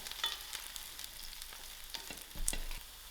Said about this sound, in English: My onions and garlic is fried.